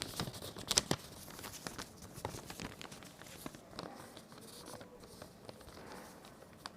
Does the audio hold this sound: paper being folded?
yes